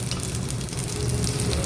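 Broken wheat roasting in a pan over a medium flame for payasam gives a steady, close crackling sizzle with no pauses and no voices.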